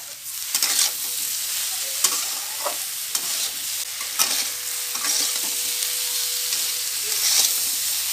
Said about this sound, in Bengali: ধুয়ে রাখা বেগুনের টুকরোগুলো এবং সাথে সাথে এর সাথে অ্যাড করব স্বাদ মতো লবণ, পরিমাণ মতো হলুদ দিয়ে এবার হালকা করে নাড়িয়ে নেব।